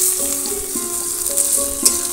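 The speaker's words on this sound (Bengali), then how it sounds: "পেঁয়াজটা একটু ভাজা করে নেবো আমি" Chopped onions frying in oil in a wok with dried red chili and panch phoron, a continuous bright sizzle with faint clinks of a spoon, close and steady, no speech.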